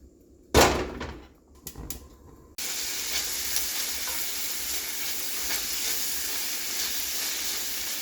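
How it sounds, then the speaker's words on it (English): Small chunks of bacon frying in a pan give a loud, steady, close sizzle after a few brief clanks and knocks at the start. "now we're going to get this bacon cooked up."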